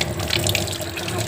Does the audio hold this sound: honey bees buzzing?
no